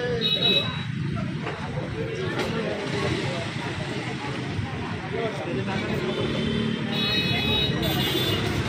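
Road traffic of cars and motorcycles passing close by, a continuous rumble of engines and tyre noise with occasional horn-like tones, voices chattering faintly underneath throughout.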